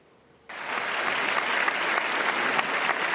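Applause from a studio audience at an Iftar television show starts abruptly after a short pause and holds as a dense, steady clapping.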